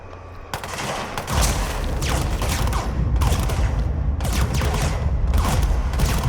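Enemies firing guns in the video game Control, rapid continuous bursts of gunfire at close range with intermittent heavier impacts and crumbling debris, loud and unbroken throughout.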